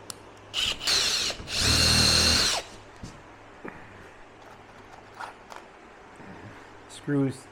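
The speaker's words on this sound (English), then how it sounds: "So let's get the first hole here drilled." A power drill whirs in two bursts while drilling a hole in a wooden cornhole board, the longer one lasting about a second, followed by quiet clicks and faint handling noise.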